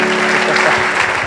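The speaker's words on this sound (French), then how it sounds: "On va acclamer Jésus." Church congregation applauding to acclaim Jesus during a worship service, a dense, steady wash of clapping that fills the room, with a faint voice and some low rumble underneath.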